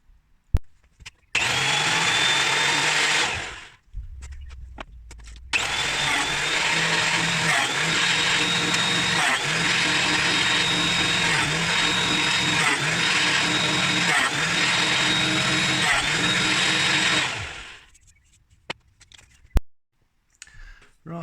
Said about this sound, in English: now I've put that through the planer thicknesser and it's come up quite nice.